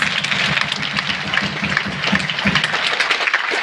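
Audience applause at an award ceremony for a military volunteer, a dense, loud and continuous wash of many hands clapping together, sustained at an even level from start to finish.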